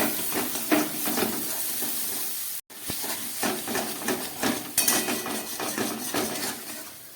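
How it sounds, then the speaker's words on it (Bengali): Spiced fish curry with potato sizzles and hisses steadily in a pan, the loud fry broken by scraping stirs and light clinks of a utensil against metal. "এখন ভালো করে কষাবো যাতে জলটা শুকিয়ে যায়"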